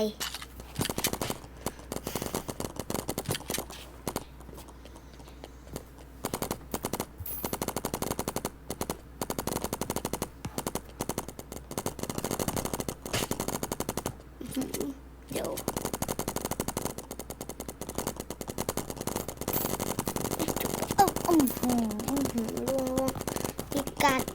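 Rapid rattling bursts of paintball gunfire in a paintball video game run almost continuously, with a voice talking over the shooting throughout.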